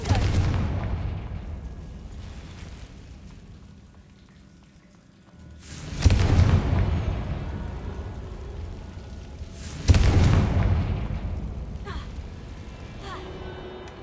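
Two sharp blasts from the Confringo fire spell in Hogwarts Legacy, each a sudden loud burst that rings out and slowly decays, set against a low ambient game background with a quiet spoken stretch early on.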